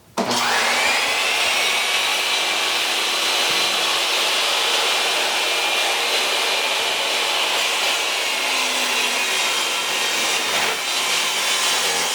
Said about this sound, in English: It's a self-cleaning vac, so you'll hear it running in the background.